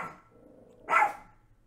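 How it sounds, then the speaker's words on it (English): A dog gives one loud, close bark after a quiet stretch of faint background, the single burst standing out sharply. "Sorry about my dogs and my yelling."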